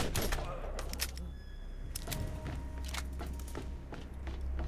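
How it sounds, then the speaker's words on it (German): Enemy gunfire in Borderlands, repeated sharp shots in irregular bursts over a constant low rumble, fairly close and loud, with no talk over it. "Die schießen auf uns."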